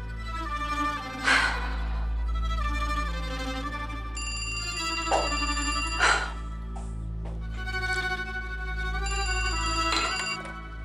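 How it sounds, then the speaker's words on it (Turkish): A telephone rings repeatedly in a home scene from a Turkish TV drama, its bright electronic ringtone sounding in several bursts close by with no talk over it. "çok çaldı bugün telefon da"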